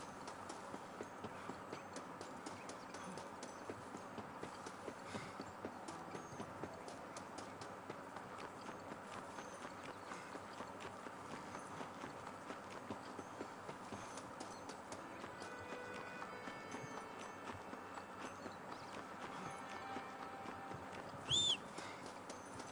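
Horse hooves clip-clop steadily through a Red Dead Redemption game scene, a quiet rhythmic trot running the whole time under soft ambient game sound, with a brief louder burst near the end.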